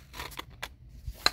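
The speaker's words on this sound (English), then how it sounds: "Completely cut the paper." A few close, crisp snips of scissors cutting paper, spaced irregularly, ending with a sharper cut.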